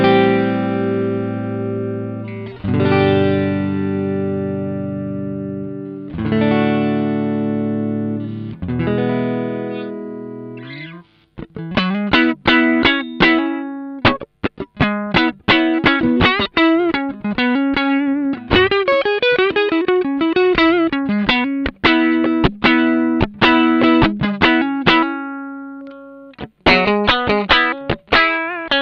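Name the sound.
electric guitar with stock tremolo springs, neck pickup, distortion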